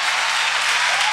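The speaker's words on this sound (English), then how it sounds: "Clap your hands to Jesus." Audience clapping hands at a church gathering, a dense, loud, continuous wash of applause with no talking over it.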